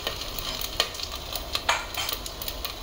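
Whole garam masala spices — cloves, cinnamon and cardamom — frying in a pan, giving a steady soft sizzle broken by a few sharp stirring scrapes and pops.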